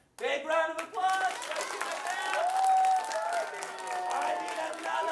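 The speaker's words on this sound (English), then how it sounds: "Great job, my friend. Big round of applause." A live-show audience gives a big round of applause for a child helper, sustained clapping with crowd noise and a few raised voices running through it.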